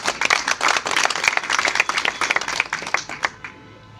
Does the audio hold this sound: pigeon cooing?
no